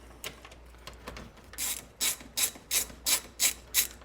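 A ratchet loosens 10 millimeter bolts on the cooling fans of a 2005 to 2012 Subaru, with quiet clicks at first, then about eight evenly spaced ratcheting swings, close and alone.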